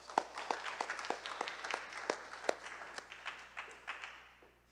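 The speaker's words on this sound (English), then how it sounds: "Let's give them a big round of applause again, guys." Scattered audience clapping for the judges at a speech championship, a thin room with a few distinct claps standing out over a sparse patter that tapers off at the end.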